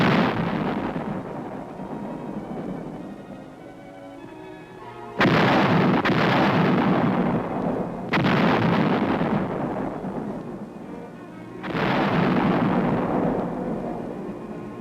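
155 mm howitzers fire from emplacements on the Capitol grounds in Seoul in 1951, heard as four heavy, booming blasts a few seconds apart, each decaying into a long rumbling roll.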